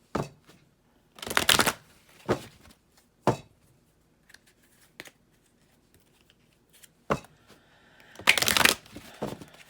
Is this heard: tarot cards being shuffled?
yes